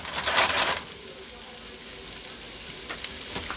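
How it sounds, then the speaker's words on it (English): Onions sweating in hot oil in a pot, giving a steady close sizzle throughout, with a louder stirring scrape at the start and small crackles near the end. "we're gonna add some oil to the pot, and we're gonna sweat all these onions"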